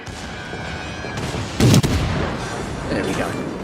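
Warship guns firing in World of Warships: one loud, heavy blast stands out in the middle of steady battle noise, with softer rumbling shots toward the end.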